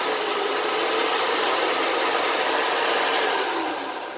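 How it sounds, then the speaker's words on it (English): A buffing wheel spins up to shed dust before knife sharpening, a steady broad whirring hiss that holds level and then tapers off slightly at the end. "I'm going to get the dust off my buffing wheel. I'm just going to run it."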